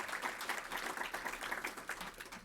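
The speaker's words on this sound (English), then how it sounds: "Give a round of applause to Siobhan Sutton, the great work that she does." An audience at an emerging manager conference applauds a speaker. The dense, continuous clapping sounds faint and distant.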